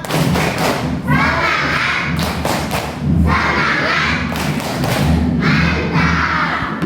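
A group claps in unison in loud rhythmic bursts, with shouting and cheering voices between the claps.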